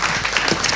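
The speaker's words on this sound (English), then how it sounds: "Let's give him a big round of applause" Audience applause at a talk on Muslim women, peace and development: a brief, dense wash of clapping filling the whole moment at steady loudness.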